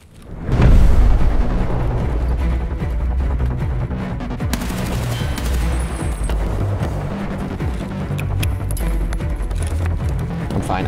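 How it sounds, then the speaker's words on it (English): A grenade blast in the video game Escape From Tarkov, a loud booming explosion followed by sustained heavy gunfire and rumbling combat noise that stays dense and loud throughout. "Nade flying in."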